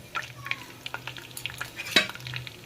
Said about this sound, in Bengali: এগুলোকে একটু ভালো করে ভেজে নেব।